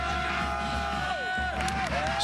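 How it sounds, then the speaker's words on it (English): A sold-out stadium crowd roars in a college football video game, UCF against Oklahoma in Norman, as a steady wash of crowd noise with a thin whistling tone over it. "Sold out crowd, packed house."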